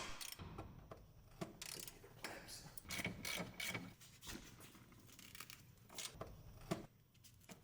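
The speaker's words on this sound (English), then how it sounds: "Unbolt and remove the tunnel brace from the car." Ratchet wrench clicking in bursts while unbolting the tunnel brace under a Lexus LS 600h L hybrid, close and moderately loud, with intermittent metallic clatter and handling noises between the ratcheting runs.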